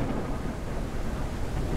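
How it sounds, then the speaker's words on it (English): Thunderstorm in the airship survival game Forever Skies: a dense, steady roar of rumbling thunder and rain, loud and continuous throughout with no talking. "Oh, this is quite the storm."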